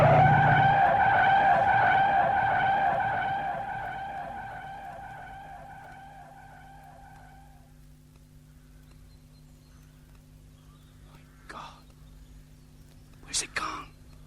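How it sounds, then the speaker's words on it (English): Motorbike engine sound effect in a radio drama, a loud droning engine tone that fades steadily away over several seconds into near silence, followed by a few faint clicks. "There's a bike coming and it's too fast."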